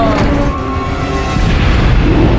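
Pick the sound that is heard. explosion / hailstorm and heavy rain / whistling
explosion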